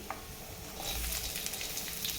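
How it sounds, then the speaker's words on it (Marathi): Green chillies sizzling as they drop into hot oil for tempering, a soft steady crackle and hiss of frying that swells into a fuller sizzle partway through, with no talk. "आता याला आपण फोडणी द्यायची. तर मी हिरवी मिरची टाकणार आहे."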